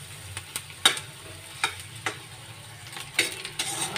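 Finely chopped onion frying in oil in a pan while being browned until golden for Punjabi aloo kachori filling, with a soft steady sizzle under sharp scrapes of a spoon stirring at irregular intervals.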